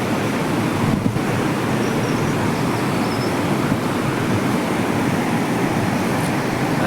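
Continuous, steady rushing of flowing water fills the scene, a broad even roar with no pauses.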